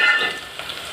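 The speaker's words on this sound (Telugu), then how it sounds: "ఆనియన్స్ ఇక ఫ్రై అయిపోయింది ఆల్మోస్ట్" Onions frying in a pan for Telangana-style chicken soup, a soft continuous sizzle with light hiss, close and steady, no voices.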